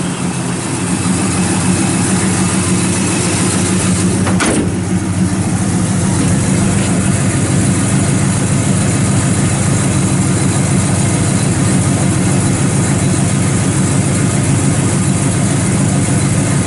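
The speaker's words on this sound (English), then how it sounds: "And it's got a nice little running 350 in it." A 1972 Chevrolet Chevelle SS with a 350 V8 idles steadily, a loud, close, continuous low rumble with an even lope and no talking.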